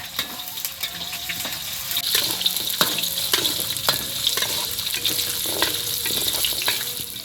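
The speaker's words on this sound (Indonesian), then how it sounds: "Lanjut menggoreng jengkol baraya ya." Steady loud sizzling of beans frying in hot oil, with crackles and occasional clinks of a utensil stirring the pan.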